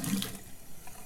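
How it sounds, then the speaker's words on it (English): Boiling water poured off the stove down a garbage disposal drain gives a short, steady rush of splashing liquid, fairly close and fading slightly toward the end. "go ahead and pull it off the stove and pour it down the drain"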